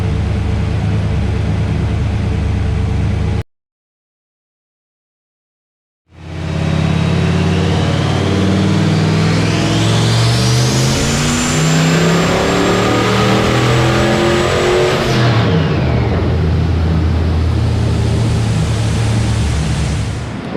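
A boosted car engine roars at full load on a dyno, loud and close. A short burst cuts to silence, then the engine revs back up, climbs steadily in pitch for several seconds, holds, and drops off.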